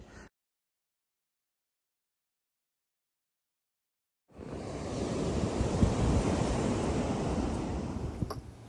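Atlantic ocean surf at Wells Beach, Maine, a broad rushing wash of waves that swells in after several seconds of silence, with wind buffeting the microphone and no voices.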